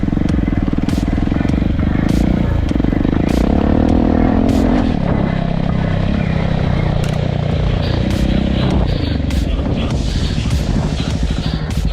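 A 2015 KTM 690 SMC R supermoto ridden fast across a field with ABS switched off, its single-cylinder engine droning loud and continuous amid heavy wind buffeting on the microphone.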